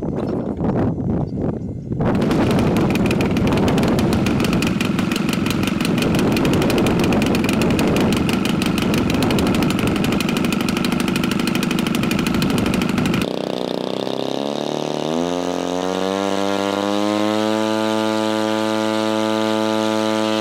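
A DA70 gas engine turning a 25x9 carbon fiber RC propeller roars loudly and steadily at full throttle for about eleven seconds, then cuts off and spins down, its pitch falling as the prop slows.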